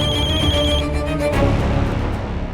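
A telephone rings with a bright, repeating electronic tone over a busy background, fading out partway through.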